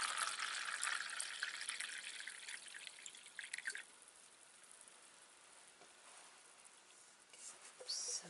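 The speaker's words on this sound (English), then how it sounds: "we're going to pour it in the iced tea cup" Iced tea pours into a cup with a close, broadband splashing trickle that is strongest for the first few seconds, then thins into softer drips and patter before a brief renewed splash near the end.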